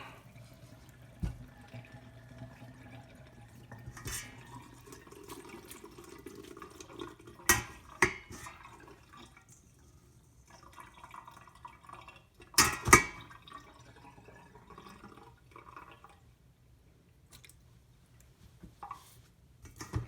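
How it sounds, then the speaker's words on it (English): Water from cooked macaroni draining through a strainer into a sink, soft intermittent trickles and drips with a few sharp clanks of the strainer or pot, fairly quiet with no talk. "And that's draining the water out of them."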